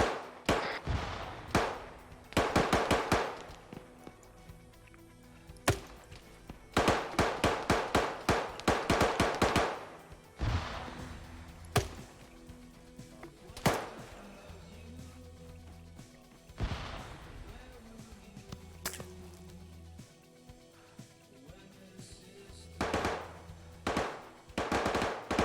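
Rapid bursts of automatic gunfire and sharp explosions in a Russian Spetsnaz military shooter game, clustered volleys separated by quieter gaps and scattered single shots, loud and close.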